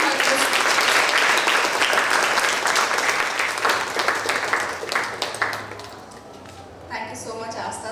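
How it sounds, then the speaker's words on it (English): Audience applause filling a hall at a women-in-leadership event as a speaker is welcomed to the stage, loud sustained clapping that thins and fades toward the end. "Please give a big round of applause as we welcome her to the stage."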